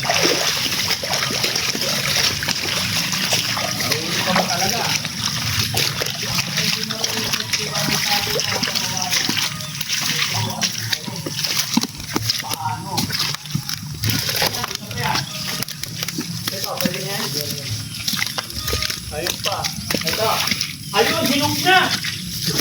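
River water rushes and splashes steadily at a farm during a banana harvest outing, a loud continuous wash that lasts throughout while people talk over it.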